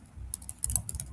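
Computer keyboard typing while HTML code is entered, a quiet, close run of irregular clicks and taps clustered in short bursts, with no talking.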